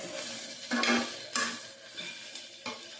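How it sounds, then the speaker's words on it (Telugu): Carrot fry cooks in an uncovered clay pot with a low sizzle, broken by several distinct scraping strokes of a spoon stirring against the pot. "ఇది విడిగా ఫ్రై అవుతూ ఉంది."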